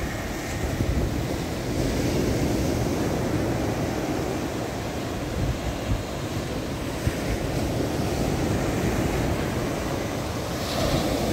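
Strong ocean waves crash and roll onto a beach at San Narciso, Zambales, as a steady, dense roar. Heavy wind rumbles across the microphone throughout.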